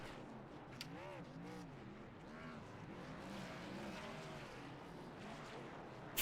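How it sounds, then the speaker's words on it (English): A race car revs in arcing, wavering sweeps during a victory burnout after a win at Talladega, with a busy crowd-and-engine wash underneath and some talk mixed in throughout. "You're going to see him do a little victory burnout here."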